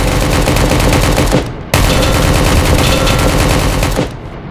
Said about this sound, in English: We all were shooting at him.